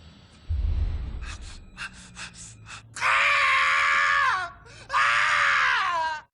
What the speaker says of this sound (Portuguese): Vamos concordar que esse gritinho foi bem esquisito